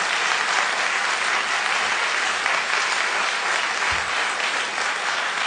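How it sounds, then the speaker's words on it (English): Audience applauding the speakers at a panel event, a steady, full wash of clapping from many hands that carries loud and even throughout. "You may applaud."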